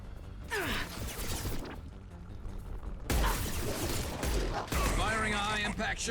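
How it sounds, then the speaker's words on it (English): High-impact gunfire in Mass Effect 2 Legendary Edition on PS5: loud, heavy blasts and rattling bursts up close, one sharp shot followed by another rolling volley, with a voice briefly audible between the shots. "Firing a high-impact shot."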